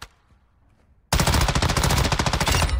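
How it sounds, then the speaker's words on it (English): Automatic gunfire from a rifle loaded with armor-piercing rounds in the video game DMZ, a loud rapid burst of evenly spaced shots that starts abruptly after a quiet second and continues steadily to the end. "I'm really enjoying shooting this gun."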